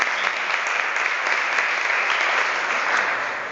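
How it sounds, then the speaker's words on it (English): Steady audience applause at a state government event announcing a savings program, a dense, even wash of clapping that holds loud throughout with no voices over it. "let's give her a round of applause"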